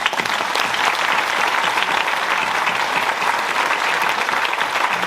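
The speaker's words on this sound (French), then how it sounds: "donc vraiment on peut vous applaudir" Sustained, dense applause from a large audience at a gala evening celebrating a bird-protection league's centenary, steady and loud throughout without a break.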